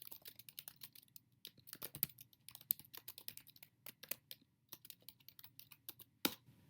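Rapid, irregular keystrokes on a computer keyboard as a grep command is typed into a Bash terminal, close and crisp with a few louder key hits, no talking.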